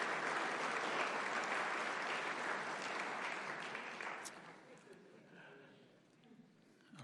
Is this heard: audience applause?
yes